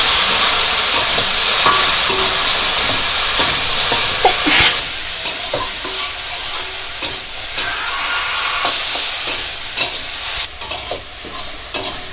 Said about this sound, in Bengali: তারপরে শাকগুলো দিয়ে দিই।